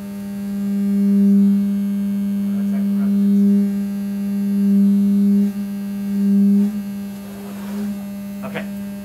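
Acoustic resonance in a tube gives a steady, sustained pure tone that swells and fades slightly, holding at moderate loudness with faint background noise and no talk.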